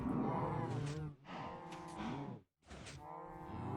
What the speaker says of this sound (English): break this block and let all the cows jump down there.